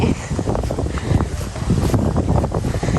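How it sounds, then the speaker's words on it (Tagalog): Strong gusts buffet the microphone in heavy, uneven low rumbles, loud and continuous throughout with no one speaking. "Malakas ang hangin"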